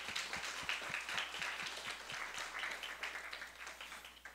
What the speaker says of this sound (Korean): 좀 더 큰 박수로 하나님께 영광을 올려드립시다